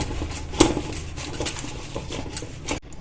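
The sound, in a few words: mixing garlic butter with pizza herbs in a bowl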